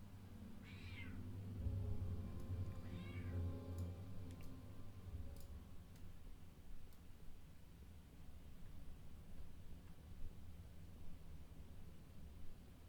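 A cat meows twice in close succession over a low steady hum and background ambience, with a few faint clicks afterward; the meows are clear and fairly near, and no one speaks.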